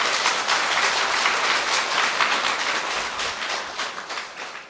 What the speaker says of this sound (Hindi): तो हाथ अपनी जोर से ताली अपने लिए।